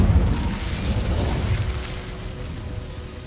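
Incendio fire spell cast in Hogwarts Legacy, a loud low whooshing burst of flame right at the start that rumbles and crackles before fading over a few seconds.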